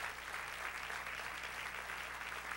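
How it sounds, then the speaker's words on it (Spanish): Church congregation at a Spanish-language service claps together, a soft, distant and steady wash of many hands with a low hum beneath, continuous and without voices. "Dale un aplauso al Señor."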